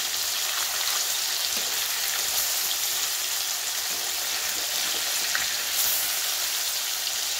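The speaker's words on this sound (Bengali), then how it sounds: "এবার একে একে পনিরগুলোকে ভেজে নেব" Cubes of paneer sizzle in hot oil on a gas flame, a continuous close crackling hiss with occasional small pops scattered through it, and no one talking.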